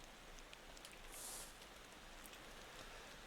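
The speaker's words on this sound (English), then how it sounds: "And now it's raining." Rain falling in the driving game Motor Town, a steady soft hiss of drops spread evenly throughout, fairly quiet, with no voices.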